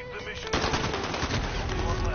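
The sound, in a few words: gunfire in the video game Call of Duty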